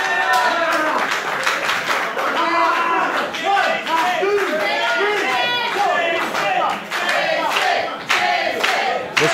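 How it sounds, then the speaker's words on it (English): A wrestling event crowd cheering and chanting for Jason Divine, a dense roar of many voices with rhythmic bursts and claps, loud and continuous, with a commentator speaking over it. "This crowd getting behind Jason Divine, trying to get Jason Divine back up to his feet"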